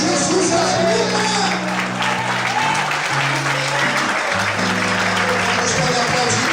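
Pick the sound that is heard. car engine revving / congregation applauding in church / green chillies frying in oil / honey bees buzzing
congregation applauding in church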